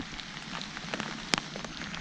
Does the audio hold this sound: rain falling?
yes